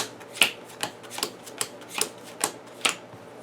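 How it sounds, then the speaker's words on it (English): A deck of encounter cards for a board game is shuffled by hand, heard as a series of crisp, evenly spaced snapping clicks about every half second in a quiet room. "So why don't we give this a shuffle?"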